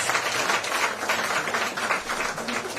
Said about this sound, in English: Let us all give them another round of applause